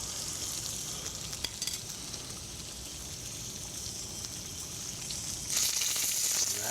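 Food sears in very hot oil, giving a steady, close crackling sizzle with small pops, which grows suddenly louder and brighter near the end as more spits and hisses in the pan.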